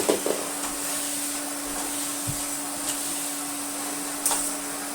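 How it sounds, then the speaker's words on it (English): A Hoover Constellation 858 vacuum cleaner runs with a steady motor hum and whine, joined by a few faint clicks and knocks from the hose. "And then hoping the one doesn't collapse, do some vacuuming."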